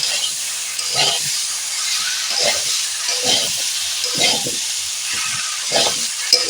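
Cinnamon, nutmeg, mace and ginger stirred in hot oil in a frying pan, with a steady hiss under rhythmic scraping strokes of a spatula, close and fairly loud.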